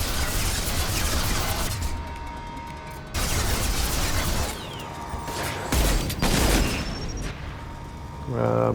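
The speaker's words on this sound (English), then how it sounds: "If you blow their head off, they will actually detonate in a pretty big explosion" A large explosion as an enemy detonates in Mass Effect Legendary Edition combat, heavy booming blasts standing out over continuous loud gunfire and battle noise.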